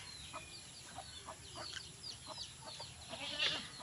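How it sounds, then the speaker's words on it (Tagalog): Farmyard chicken sounds from two mother hens tending three chicks: soft scattered clucks and faint high chick peeps spread across a steady rural background, with a slightly louder call near the end. "dalawa sila nanay sa 3 sisiw"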